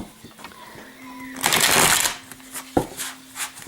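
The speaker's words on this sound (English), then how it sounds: "I'm just going to shuffle one more time, and then we're going to cut the deck" Cards are riffled and bridged in a quick rustling burst, followed by a few softer snaps and taps as the deck settles, with faint background hum.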